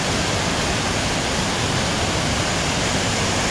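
Floodwater from heavy rain rushes at a full dam in the Brazilian northeast, a loud, steady broadband roar like a waterfall that fills the whole stretch with no break and no voices.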